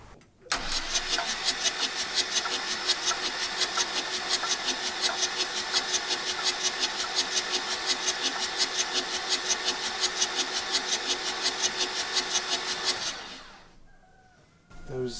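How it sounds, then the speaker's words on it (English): Rusty junkyard VW Transporter single cab engine cranking in a long rapid rhythmic churn for about twelve seconds without catching, then stopping, followed by a brief second crank; loud and close. "and now try to start."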